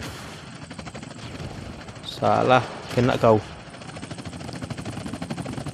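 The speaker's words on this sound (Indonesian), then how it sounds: "Dia masih berputar-putar di atas kepala kita" A buzzing drone and rapid gunfire in a shooting video game, with the steady pulsing rotor drone and repeated quick shots running throughout while a person speaks briefly in the middle.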